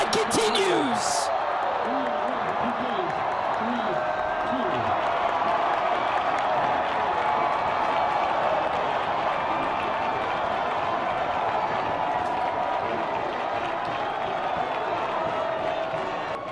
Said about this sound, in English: The crowd rushes the field here at Jerry Yeagley Field.